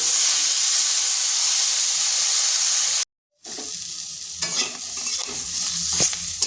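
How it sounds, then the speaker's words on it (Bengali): Pointed gourd (potol) pieces frying in oil in a kadai, giving a steady close sizzle and hiss with stirring scrapes, broken by a brief silent gap partway through before the frying noise resumes. "তো আমি পটলটাকে ভেজে নিচ্ছি।"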